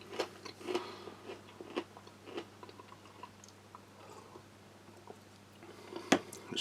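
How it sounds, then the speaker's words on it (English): Someone crunches salt and vinegar crisps from a military ration, with a run of irregular crisp bites and chewing up close, quieter in the middle and with one sharp crunch near the end. "So nice, tasty, crisp, crunchy, enjoyable snack."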